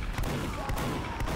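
Rapid gunfire in the video game Team Fortress 2, a dense burst of close shots with a couple of sharper cracks standing out over noisy game sound.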